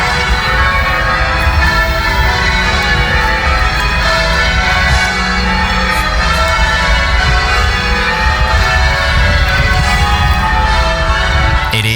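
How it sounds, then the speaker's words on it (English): The church bells of Stoke Minster in Stoke-on-Trent ring out across the city, a dense, continuous, loud wash of overlapping peals without pause and without speech. "This is the sound of Stoke Minster ringing out across the city"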